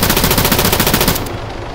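A burst of machine gun fire from the ARMA 3 video game rattles steadily and loudly for over a second, with rapid evenly spaced shots, then cuts off and leaves a fading echo.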